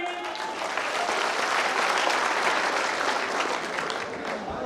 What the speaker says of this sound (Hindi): जोगीरा का तुम्हें तालियां बजाइए।